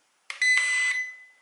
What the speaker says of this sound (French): Voilà, un bip et ça a remis l'horizontalité